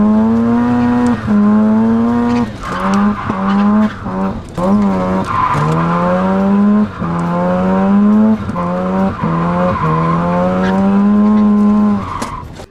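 A Mazda RX-7 FC drift car sliding with long, loud tire squeals that rise and fall in repeated sweeps over the engine note, no voices.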